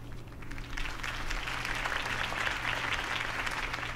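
Crowd applause at a campaign speech in the Batman: The Telltale Series video game, continuous dense clapping from a large outdoor audience over a low hum, steady and moderately distant.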